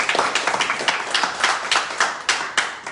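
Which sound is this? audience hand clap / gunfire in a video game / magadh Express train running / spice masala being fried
audience hand clap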